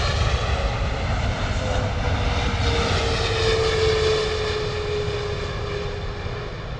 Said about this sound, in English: Here we go, Boeing 777 British Airways coming in.